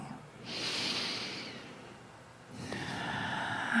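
Two deep, close breaths during a guided meditation: a long airy inhale, a pause, then a second drawn-out breath, hissy and full, with a faint voice underneath.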